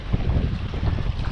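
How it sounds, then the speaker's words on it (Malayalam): Strong wind roars across a fishing boat out on open water, a loud, steady, buffeting rumble against the microphone with no talking. "കാറ്റ് പെട്ടെന്ന് വന്നു."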